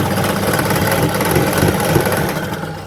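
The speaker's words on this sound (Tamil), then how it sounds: "அதுக்கப்புறமா அரை இன்ச்சில் அப்படியே தைக்க போகிறோம் ஒரு பேக் ஸ்டிச் கொடுத்து ஸ்டார்ட் பண்ணுறேன்" A sewing machine runs a back stitch along a half-inch seam on a princess-cut garment with a belt, its motor whirring steadily and loudly for the whole stretch with a fine rapid vibration.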